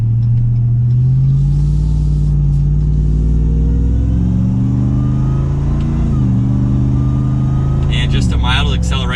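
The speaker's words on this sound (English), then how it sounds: "There's no exhaust note modes, so you kind of just get one exhaust note." A 2022 Ram 1500 TRX pickup's engine drones and rises steadily in pitch as it accelerates, a deep exhaust rumble close by, ending in a sharper rasping burst.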